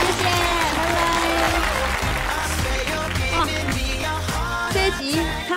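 Studio audience applause on a Chinese talk show, a sustained wash of clapping mixed with loud music and some voices, continuous throughout.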